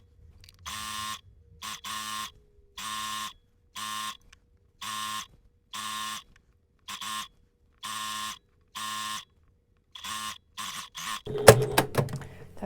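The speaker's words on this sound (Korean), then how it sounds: "저는 밑단부터 박음질을 해볼게요." A sewing machine stitches the side seam of a dress in short buzzing bursts, about a dozen evenly spaced runs with brief silences between, ending in a rustle of fabric handling.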